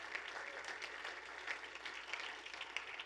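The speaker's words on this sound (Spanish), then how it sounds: "Alguien de veras le da un aplauso al Señor con gratitud." A church congregation applauding at a service, a steady dense patter of many hands clapping at moderate distance, sustained throughout without talk.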